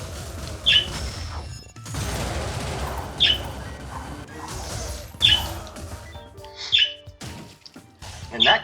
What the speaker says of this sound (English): The birds are just completely making up for that.